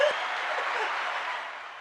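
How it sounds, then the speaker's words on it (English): A small group at home gives a brief round of applause during a casual movie-rating chat, soft clapping that is fairly faint and tapers off within two seconds. "Give yourself a round of applause."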